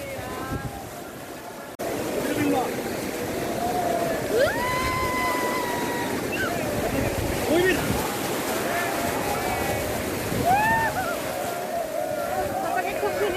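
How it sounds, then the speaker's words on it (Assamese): Sea waves at the beach in Gokarna around sunset roll in as a steady broadband wash that stays fairly loud throughout, with bird calls above it and occasional voices nearby. "এতিয়া ঢৌটো বহুত আহিছে পানীৰ।"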